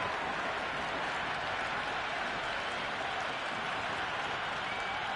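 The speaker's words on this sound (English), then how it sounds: "It's almost palpable, the excitement emanating from this crowd at the moment." A stadium crowd in a PS5 cricket video game cheers and applauds in a continuous, even roar throughout, heard from a broadcast distance.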